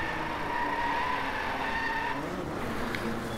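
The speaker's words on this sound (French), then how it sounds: "Allez, un petit drift là." Tyres skid steadily as a car drifts in the racing video game Driveclub, a continuous engine drone with squealing tones that fade out near the end.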